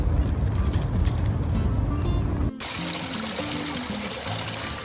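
A garden water feature pours and splashes in a steady, full stream close by, shifting abruptly partway through to a slightly softer, more even trickle.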